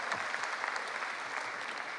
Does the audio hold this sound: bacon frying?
no